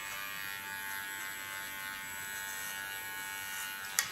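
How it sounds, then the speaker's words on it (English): Electric hair clipper cutting hair during a boy's haircut, a steady high buzzing hum held close and continuous, with a brief sharp tick near the end. "Leaning on the tip of my clipper"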